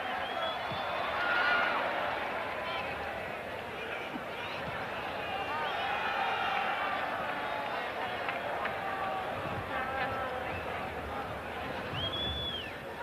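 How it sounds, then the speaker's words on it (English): Stadium football crowd at Morocco vs Poland, a sustained roar of chanting and cheering supporters filling the whole stretch, steady and dense with occasional whistles rising above the noise. "The crowd getting behind Morocco again."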